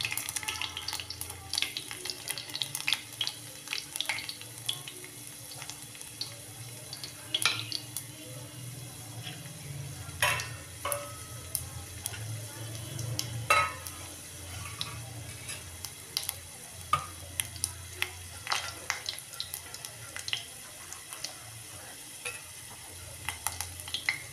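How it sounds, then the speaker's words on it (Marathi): Garlic and cumin sizzle in hot oil, a continuous soft frying hiss with scattered crackles and occasional stirring clinks from a spoon against the pan. "तेल गरम झालं आहे, लसूण टाकलं आहे. आपण त्याच्यामध्ये आता जिरं टाकलं आहे."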